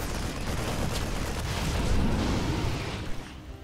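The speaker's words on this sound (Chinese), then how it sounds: "有点解决不了这些机枪" Dense, continuous battle noise from a StarCraft II match, with machine gun fire and explosions piling into a loud, rumbling wash that swells midway and then thins out toward the end, with no talk.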